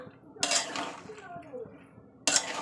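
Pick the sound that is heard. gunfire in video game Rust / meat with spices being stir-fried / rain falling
meat with spices being stir-fried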